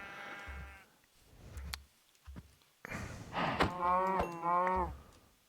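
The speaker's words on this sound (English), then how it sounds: "Sheep." Several bleating calls from a sheep in Minecraft, wavering nasal cries spaced apart with soft thuds and clicks between them, the last two loudest.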